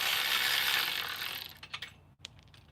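Ratchet wrench working fasteners on a Jeep JK, a steady broadband mechanical rasp that fades into a few separate clicks and a single sharp tick near the end, close up with no talking.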